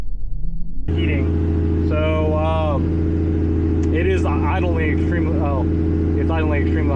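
Toyota 1JZ engine swapped into a G35, idling high at 1600 RPM: a steady, even engine hum that holds throughout, with someone talking over it.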